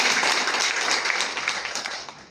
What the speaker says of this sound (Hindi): सब सर के लिए एक जोरदार ताली हो जाए